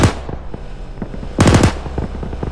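Bursts of automatic gunfire in Arma 3 rattle through the mix, with scattered single shots and a loud, dense volley in the middle, some rounds near and others more distant.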